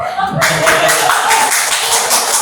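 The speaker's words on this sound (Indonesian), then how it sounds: "kita cukup tepuk tangan saja" Indoor audience at a teachers' workshop breaks into loud clapping after a brief quiet start, a dense burst of hands with a few stronger accents, close and alone.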